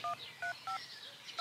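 Telephone keypad tones, five short, clear beeps pressed in a quick uneven rhythm, close and alone.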